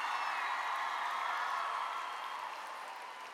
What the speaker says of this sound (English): A round of applause to all the participating countries.